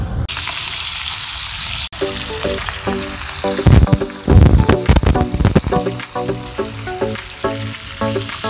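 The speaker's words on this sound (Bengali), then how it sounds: "সুদাম ভাই এখন একটু হাত লাগিয়েছে মাছেতে, মাছ ভাজাতে আর কি" Fish sizzling as it fries in hot oil outdoors at a rural picnic in Singur, Hooghly, with a steady loud crackle and occasional stirring or clattering bursts, no talk.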